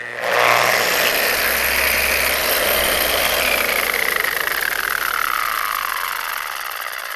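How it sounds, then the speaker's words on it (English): An angle grinder fitted with a brush runs steadily at low speed against an exterior log home surface, a loud continuous whirring drone with a slowly falling pitch. "So this is at low speed on the grinder."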